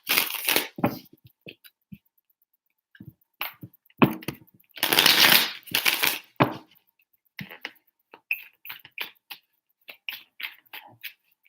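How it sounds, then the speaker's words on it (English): Tarot cards being shuffled by hand in a series of irregular riffling bursts, some short and some longer, separated by brief silences. They sound close and fairly loud. "3 shuffles."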